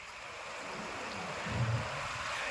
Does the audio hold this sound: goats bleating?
no